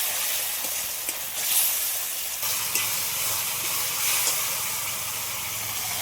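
A ground paste of white and black mustard, cashew and raisin fries in oil in a pan for a fish curry, giving a steady broad hiss and sizzle that holds near and fairly loud throughout, with no talk.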